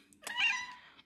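A curious house cat gives a single clear meow, close and fairly loud, lasting under a second with a rising then falling tone in a quiet room.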